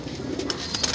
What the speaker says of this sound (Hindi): ये रे एक से एक बेहतरीन कबूतर है